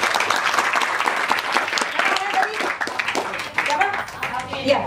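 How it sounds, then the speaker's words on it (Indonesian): Applause from an audience at an Indonesian model-search casting session, a steady dense patter of many hands clapping at close range, with voices talking over it throughout. "tepuk tangan semua ya teman-teman"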